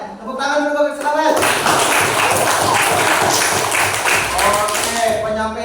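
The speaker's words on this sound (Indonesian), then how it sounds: "Tepuk tangan dulu Kakak Slamet." An audience claps loudly for Kakak Slamet after his talk at an educational session, a dense burst of applause rising suddenly and holding, with a voice speaking briefly before and after it.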